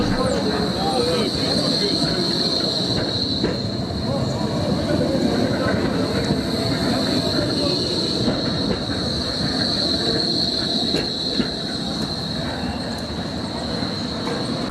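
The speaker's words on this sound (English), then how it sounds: "And here is a tram." A tram in Berlin rolls past close by, with rumbling wheels, faint clicking over rail joints and a sustained high squeal from the wheels, while a voice talks over it.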